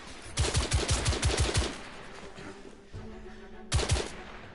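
Rapid bursts of automatic gunfire from The Order video game, a loud rattling volley of about eight shots, a pause, then another short burst near the end.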